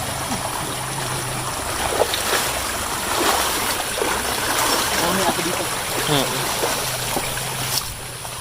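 Steady rushing water fills the scene, a flowing river close by with occasional splashes, and a voice speaks briefly over it.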